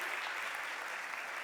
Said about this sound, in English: Please, round of applause for these guys.